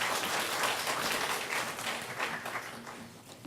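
A church congregation at a spring revival service welcomes the pastor with applause, a dense, fairly distant wash of clapping that continues throughout with no talking over it.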